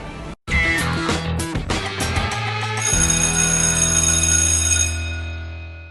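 Ringing doorbell chime used as the opening sound effect of a Mexican show, a few bright strikes followed by a sustained ringing tone that fades out, loud and alone.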